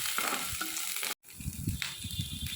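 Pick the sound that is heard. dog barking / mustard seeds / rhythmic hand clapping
mustard seeds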